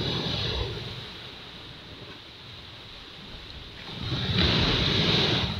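Rough sea surf washing against the shore on a choppy day too rough for fishing boats to go out, a steady broadband rush with wind noise that swells louder toward the end, no voices.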